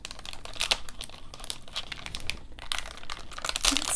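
Packaging of an Amano Dos Rios 70% chocolate bar being opened by hand, with close, irregular bursts of crinkling paper and foil plus a few tearing rustles and no speech.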